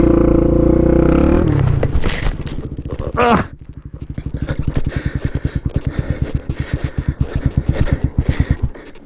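Motorcycle engine revving on dirt while the rider practices half skids, a loud rasping pulse that rises and falls in fast rhythmic bursts with scraping and clatter close by, after a brief harsh scrape.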